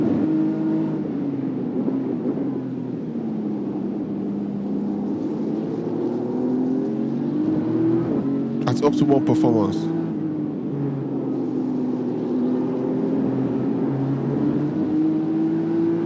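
A BMW M racing car engine drones steadily at Brands Hatch from onboard, its pitch rising and falling slowly as the car circulates, with someone talking over it throughout.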